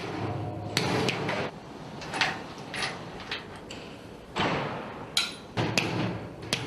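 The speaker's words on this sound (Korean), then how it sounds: "볼트가 잘 들어가지 않을 때는 망치를 사용하는 수밖에 없다." A hammer strikes a bolt being driven into a steel frame on a high-rise steel construction site, giving several sharp metallic knocks spaced irregularly over steady site noise.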